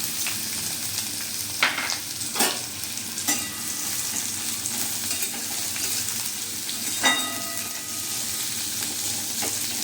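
Onions sizzle in hot oil in a kadai with a constant hiss, broken by several scraping stirs of a spatula against the pan.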